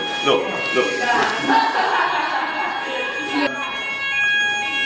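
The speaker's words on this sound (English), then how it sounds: "Fire alarm has just gone off in the middle of rehearsal." A building fire alarm sounds continuously through a rehearsal, a steady electronic tone running under people talking and moving about nearby.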